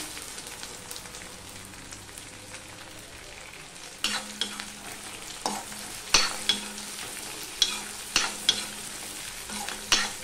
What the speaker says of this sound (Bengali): তেলটা কমিয়ে নিয়েছি, প্রয়োজন মতন তেল রেখে এবার আমি পেঁয়াজটা দিয়ে দিলাম।